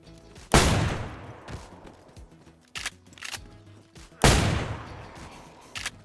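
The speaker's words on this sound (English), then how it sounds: "As you can see, this shotgun is very loud, as are all shotguns, so be ready for a swarm of infected when shooting it." Shotgun blasts in DayZ gameplay on the Chernarus map, aimed at infected: two loud, close booming reports with trailing decay, separated by a few lighter clicks and thumps of handling or reloading.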